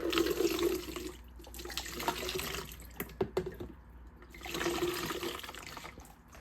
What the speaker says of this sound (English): I still like to filter it through again, so I'm gonna put this and then pour this in here.